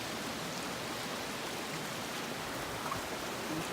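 Angel Creek in the Grand Canyon, near the trail to Phantom Ranch, rushes in a steady, even wash of flowing water that stays loud and unbroken throughout, with no voices.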